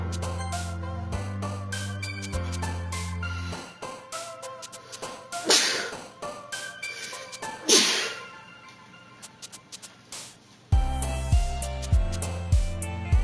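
Two sharp, close bursts of a person sneezing stand out above background game music.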